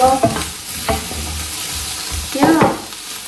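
Loud, close sizzling of tempering spices frying in hot oil for a cauliflower dish, with a sharp hiss and crackle bursts and some scraping as the pan is stirred.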